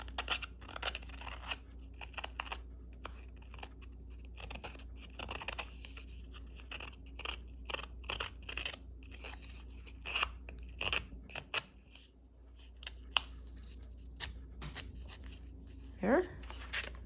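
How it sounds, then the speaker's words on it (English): Scissors snipping paper for a Halloween junk journal, a quick run of close, crisp cuts and rustles, with someone talking quietly over it. "And just use the edge of the scissors."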